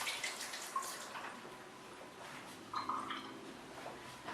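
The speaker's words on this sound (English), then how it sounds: "Let me just rinse my hands." Water from a kitchen tap runs steadily as hands are rinsed beneath it, a soft continuous splashing with a couple of brief louder splashes, close by and without talk.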